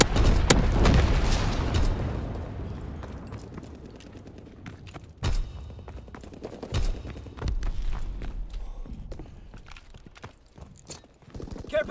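Incendiary bombs from a low-altitude bomber in Call of Duty: WWII land with a heavy opening boom and rumble, followed by scattered sharp blasts and crackling bursts that fade and recur over the rest of the stretch.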